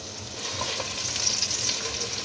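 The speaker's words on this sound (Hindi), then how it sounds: "1 मीडियम प्याज जिसकी मैंने स्लाइस में कटिंग की है वो डाल दें और प्याज को इसके अंदर फ्राई कर लें" Sliced medium onion frying in hot oil for a mutton yakhni pulao, a steady, close, even sizzle with a soft crackle and no voices.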